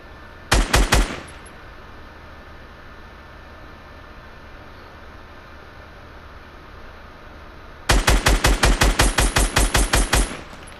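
SMG fire in Fortnite Battle Royale: a short rapid burst of loud, close shots, a long quiet gap, then a longer rapid string of sharp shots.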